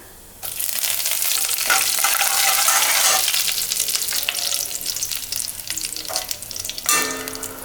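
Curry leaves dropped into hot oil already crackling with mustard seeds and urad dal for raw mango thokku, a loud burst of sizzling and spitting that flares up at once, fades gradually, then spikes again near the end.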